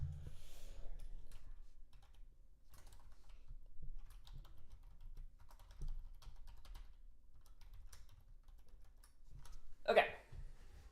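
Quick bursts of typing on a computer keyboard as notes are jotted down, soft clicks clustered in uneven runs with a brief louder clatter near the end, close and quiet.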